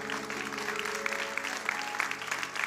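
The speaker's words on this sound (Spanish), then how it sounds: "¿Cuántos dan un aplauso al Señor?" A church congregation claps steadily for the Lord, a dense wash of applause with scattered louder claps throughout.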